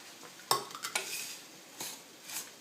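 Powdered sugar being mixed into toasted breadcrumbs in a bowl, heard as a few close, sharp scrapes and clinks of a utensil with soft rustling between them and no voices.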